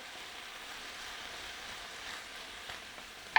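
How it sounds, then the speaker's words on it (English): Rapini (broccoli rabe) sauteing over medium heat in extra virgin olive oil, a soft, even sizzle that holds steady and close with no voices. "we're just sauteing it and getting it coated in all that olive oil"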